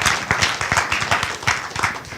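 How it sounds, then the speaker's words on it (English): A story slam audience breaks into applause for the next storyteller, with dense, rhythmic clapping from many hands, fairly loud and steady for about two seconds, with no talking. "Let's give a round of applause to Oliver."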